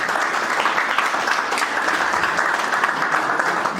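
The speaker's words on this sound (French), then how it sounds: "Est-ce qu'on peut applaudir pour ça?" Steady, dense applause from a large audience at an international professional graduation ceremony in Lomé, Togo, loud and continuous throughout with no talk over it.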